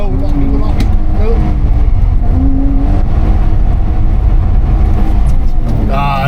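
A BMW E30 325i engine revs hard as it tries to spin into a donut, a loud, continuous drone that rises and falls in pitch close by, with rough road and tyre noise underneath.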